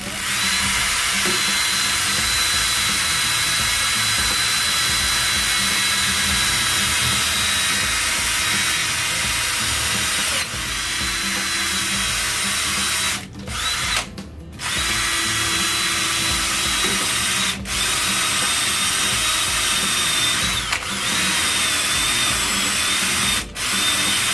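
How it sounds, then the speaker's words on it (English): A power drill on drill setting bores through ceramic tile, giving a steady, close grinding whine that runs continuously, broken by a few brief pauses and stops near the end. "set it to drill function. Just line them up, press and cut."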